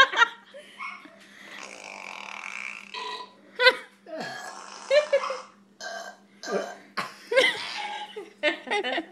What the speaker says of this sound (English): Cassie has a burping one. Oh, it's fart and burp.